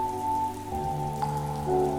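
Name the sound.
rain beating on the ground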